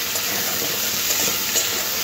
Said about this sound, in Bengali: পেঁয়াজটাও সবজির সাথে খুব ভালো করে